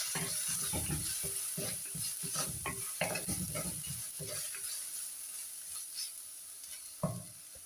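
Curry leaves sizzle and crackle in hot oil for a homestyle Kerala curd curry, with steady frying hiss, stirring scrapes and occasional utensil clinks, close up and without speech.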